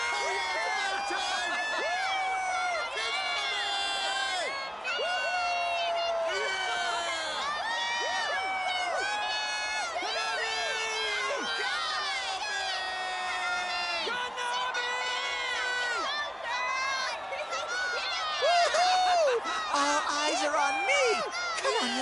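A concert audience cheers and whoops continuously in Persona 4 Dancing All Night as idol Kanami takes the stage, with a dense, steady wall of shouting voices.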